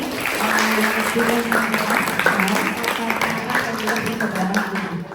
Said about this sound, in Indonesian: tepuk tangan dulu dong untuk Pak Ardi.